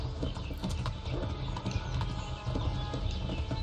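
A horse gallops in Kingdom Come: Deliverance, its hooves beating a steady, rapid rhythm against a dense, loud background of outdoor game ambience.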